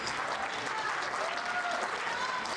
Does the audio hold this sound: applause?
yes